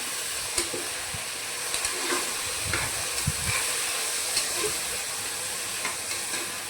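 Tomatoes sauté in a hot pan for tomato rice, a continuous soft hiss and sizzle with occasional spoon scrapes and light knocks, close and fairly quiet, nobody speaking.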